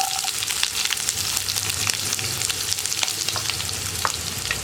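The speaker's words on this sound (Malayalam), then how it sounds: "ഇനി നമുക്ക് സവാള ചേർത്ത് കൊടുക്കാം" Sliced onion goes into a pan of vegetables already frying, giving a loud continuous sizzle with scattered crackles and stirring scrapes throughout.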